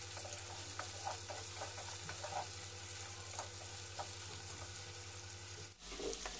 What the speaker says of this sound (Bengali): সব উপকরণকে একসাথে ভালো করে ভেজে নেব।